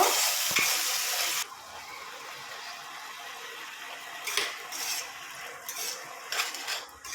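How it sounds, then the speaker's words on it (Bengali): Shrimp frying in a pan, steady sizzling that quickly drops to a quieter frying hiss, with occasional utensil scrapes and clinks against the pan. "ভালো করে ভেজে নেব।"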